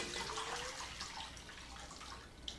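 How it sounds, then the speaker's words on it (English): Drinkable water pouring into a pot for fish stock, a steady, faint, continuous splashing rush with no talking. "And basically you just add drinkable water to the"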